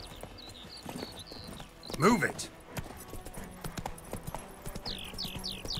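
Horse hooves clip-clop steadily in The Witcher 3 video game soundscape, with chirping birds and brief shouted speech over the top.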